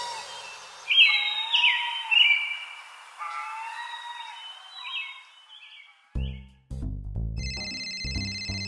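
Outdoor bird chirps and whistles fade out, then a loud electronic phone ringtone begins, repeating a bright melodic pattern.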